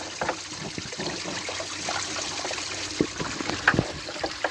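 Water gushing and trickling through a Chevrolet S10 radiator during a cooling system flush, a steady close splashing stream with small gurgles and drips, no voices.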